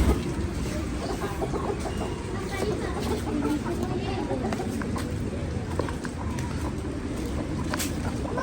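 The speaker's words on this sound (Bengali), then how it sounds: "আর মোরগগুলো দেখেন সব বাসার সামনে আসছে" Village roosters cluck in front of a house just after rain stops, their calls mixed into a dense wet outdoor background with faint voices nearby.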